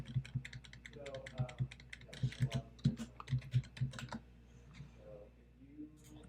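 Keystrokes on a computer keyboard entering a card number into a payment form, a run of quick, uneven clicks in short bursts with pauses, close and fairly quiet over a low steady hum.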